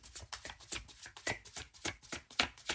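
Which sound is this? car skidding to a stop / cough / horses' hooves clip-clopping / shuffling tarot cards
shuffling tarot cards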